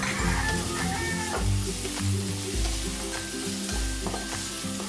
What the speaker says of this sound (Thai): เราก็จะผัดไปเรื่อยๆจนกุ้งของเราเริ่มสุกนะคะ